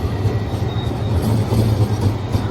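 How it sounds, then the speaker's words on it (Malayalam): A tram rolls through a street in Luxembourg, giving a steady low rumble of wheels and motor with faint rail clatter, close and continuous, with no talk. "ഇതാണ് ലക്സംബർഗിലെ ട്രാം."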